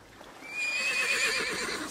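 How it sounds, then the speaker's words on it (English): A horse named Pegasus neighs as it rears up, a single high, shrill whinny heard fairly close against a faint background, with no talking. "Startled, Pegasus reared up."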